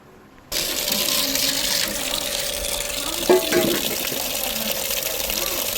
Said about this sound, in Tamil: சிக்கனில் அருவியில் கழுவுன்னு நினச்சிக்காதீங்க டேப்பில் தான் கழுவுறோம்